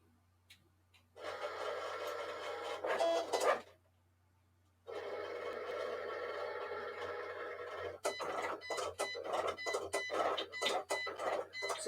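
A press machine works on a rhinestone patch, giving off a faint mechanical whirring in two long runs separated by pauses, then a stretch of quick irregular ticking and clicks.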